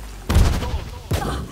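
Two abrupt, booming bursts of a Magic Missile spell effect in the Pathfinder video game, each a loud thudding impact with a short rumbling tail, the second arriving about a second after the first.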